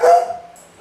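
A coonhound gives a single loud, close bark that trails off into a fading whine, with no talk.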